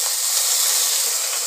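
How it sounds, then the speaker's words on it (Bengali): Eggplant frying in a little oil with water sprinkled into the pan, giving a steady, loud sizzling hiss that holds evenly throughout, close up with no talking. "যেহেতু তেল অল্প দিয়েছি বেগুন ভাজাটাতে, সেহেতু আমি একটুখানি জল ছিটিয়ে ছিটিয়ে বেগুনটাকে ভাজা করে নেব"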